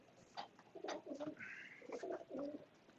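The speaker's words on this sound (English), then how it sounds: "He's a nice pigeon." A pigeon coos nearby in a series of soft, throaty rolling calls, several phrases in a row against a quiet background.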